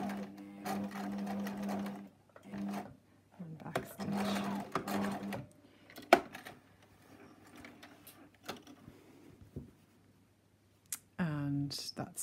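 A sewing machine stitches the corner of a jeans pocket in short runs, pausing to pivot between a few stitches, with a person talking quietly throughout.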